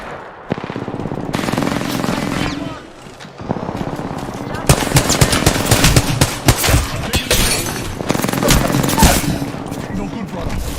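Video game combat with sustained loud machine-gun fire and dense overlapping gunshot bursts, close and intense, with brief lulls between volleys and players talking over the shooting.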